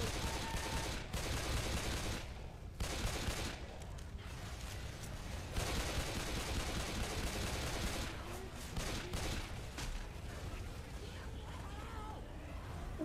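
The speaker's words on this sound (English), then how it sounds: "Try shooting some damn zombies instead of me" Rapid, sustained gunfire from zombie-shooting in Left 4 Dead 2 fills the scene: dense bursts of shots run almost continuously, with brief gaps, over a steady noisy background.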